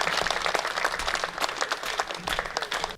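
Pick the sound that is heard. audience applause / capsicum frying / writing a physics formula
audience applause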